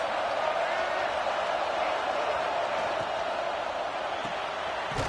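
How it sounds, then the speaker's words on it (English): A stadium crowd at a college football game with Georgia playing gives off a steady, dense roar from many voices, while a commentator talks over it throughout. "This crowd trying to make life miserable for this offense."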